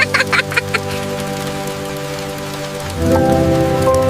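Cartoon rain falls as a steady, loud hiss with a few sharp drops at the start, heard together with sustained musical tones that swell near the end.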